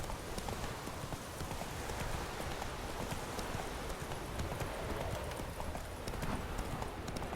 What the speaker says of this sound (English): it's hard to control the horse in gallop